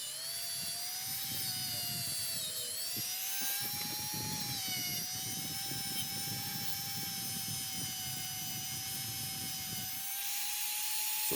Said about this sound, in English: I use a wire wheel with my rotary tool to remove the remainder of the paint